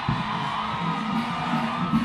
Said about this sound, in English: A round of applause for Kenyatta University.